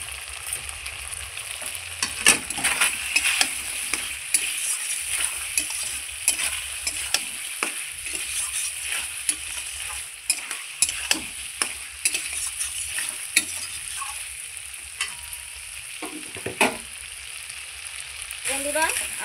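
Spices are stirred through elephant foot yam in a frying pan, a spatula scraping and knocking in an uneven rhythm over a constant close sizzle, with a few brief murmurs.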